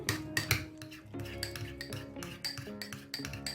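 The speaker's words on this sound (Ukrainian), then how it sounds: "Додаю м'яке масло. Добре його вимішую." Soft butter and garlic worked together in a bowl, heard as quiet irregular scraping and tapping of a utensil against the bowl, close and fairly faint.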